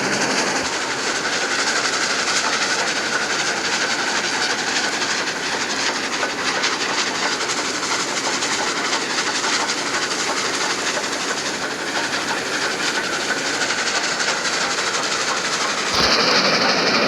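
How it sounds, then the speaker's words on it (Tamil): Loud, steady rumble and clatter of a moving train in Roblox with a constant hissing wash, running unbroken until a brief shift near the end. "வாங்க ட்ரெயின் எடுத்துகிட்டு போவோம்."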